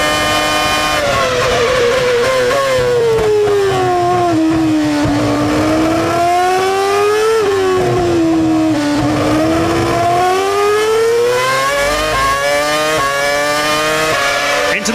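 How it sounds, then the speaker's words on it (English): Jenson Button's Formula 1 car, heard onboard during the closing stages of the 2007 Malaysian Grand Prix at Sepang, its engine screaming loud and continuous as the pitch sweeps down and up through braking, downshifts and acceleration. "We're riding on board with Jenson Button, and we've got this wonderful G-force counter that shows you just how brutal it is driving a Grand Prix car"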